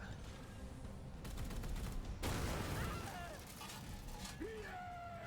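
Gunfire in the video game Chaos Gate: rapid crackling bursts of shots over a dense rumbling battle backdrop with electronic tones, a voice talking underneath at times.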